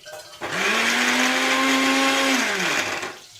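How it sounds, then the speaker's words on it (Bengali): Mixer grinder blending ginger with water into paste, a loud motor whine starting abruptly, holding a steady pitch for about two seconds, then winding down and stopping. "একটু একটু করে জল দিয়ে বেটে নিলে ভালোভাবে পেস্ট হয়ে যাবে"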